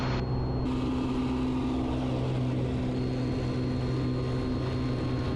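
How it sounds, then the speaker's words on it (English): Small propeller airplane at full throttle on takeoff from Wisconsin Dells, a loud steady engine drone with droning propeller tones filling the cabin. "Full throttle. Build up that airspeed."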